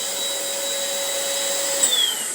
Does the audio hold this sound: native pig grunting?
no